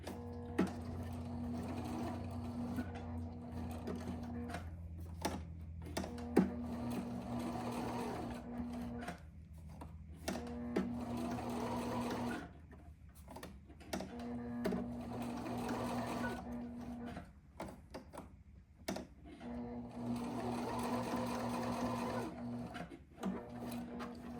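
A sewing machine stitches a tiny teddy bear in repeated bursts, slowing on the curves. The steady mechanical whir and needle hum run close and clear, stopping and starting several times with quiet pauses between runs.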